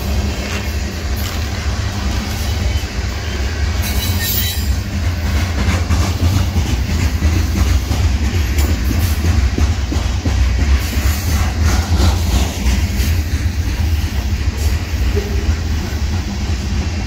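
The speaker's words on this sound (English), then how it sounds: "I enjoy these trains." A train rolls steadily past on the rails, a loud continuous rumble with a rhythmic clickety-clack of wagons over the track holding for the full stretch without letting up.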